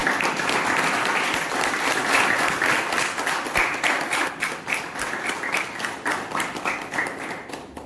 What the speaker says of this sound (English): let's give a big round of applause to the committee.